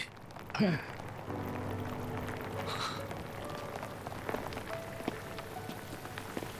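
Light rain of a sun shower patters steadily on surfaces, with a brief chirping sound near the start and scattered drips over a constant soft hiss.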